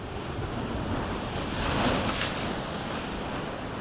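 Ocean waves washing onto a beach at Eystrahorn in Iceland, a steady rushing roar that swells briefly in the middle, with some wind noise and no voices.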